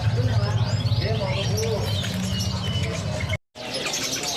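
An East Javan cucak kerucuk sits in a cage at the Pramuka bird market amid many other caged birds, with a busy, loud mix of chirps, whistles and dove coos, and a brief dropout near the end.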